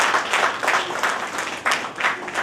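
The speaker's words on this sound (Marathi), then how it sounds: "एकदा जोरदार त्यांच्यासाठी टाळ्या वाजवाव्या" Audience applause at a Women's Day award ceremony, a steady wash of many hands clapping in uneven surges, moderately loud with no one speaking over it.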